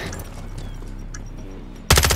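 Video game gunfire, a rapid run of close, evenly spaced shots followed by a sudden loud burst at the end.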